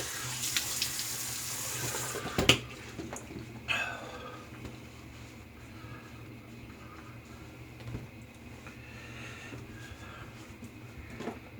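A bathroom tap runs steadily for rinsing after shaving, a soft continuous water stream with a couple of brief knocks near the start.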